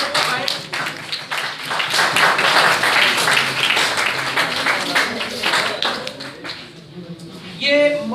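An audience at a medical college event applauding to welcome a motivational speaker, a dense burst of clapping that thins out near the end, with voices over it.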